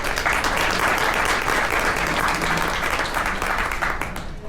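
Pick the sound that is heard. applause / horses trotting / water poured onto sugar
applause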